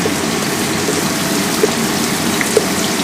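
Penne pasta is stirred in a pot of boiling water, giving a continuous bubbling, watery rush with a few faint knocks of the spoon against the pot.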